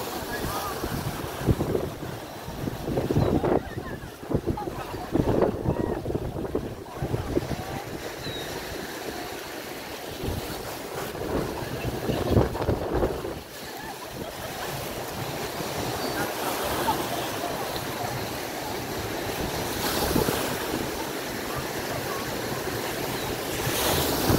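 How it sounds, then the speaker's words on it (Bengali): Strong wind roars across the Lake Michigan shore as waves crash and wash in repeatedly, a broad, continuous surge of noise with louder breaking swells and gusty microphone buffeting throughout. "ঢেউগুলো তীরে আছড়ে পড়ছে।"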